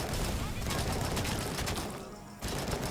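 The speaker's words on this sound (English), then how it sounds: "Taking the AK here and blowing up the office" Rapid bursts of AK rifle fire in the RoboCop: Rogue City video game, loud and dense, with a brief lull before the shooting resumes.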